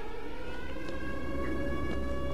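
A continuous electronic siren in the video game World War Z drones with steady, layered tones, loud and unbroken, with faint scattered sounds over it.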